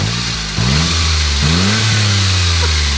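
A Smart Brabus 0.7 litre three-cylinder engine, close and loud, idles steadily and is blipped in three quick revs that rise and fall back, with no talking.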